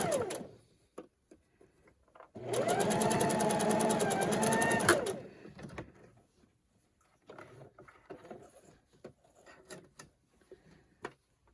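A sewing machine runs one steady burst of rapid mechanical stitching along a Christmas table runner seam for about three seconds, then stops, leaving soft handling noises and fabric rustles.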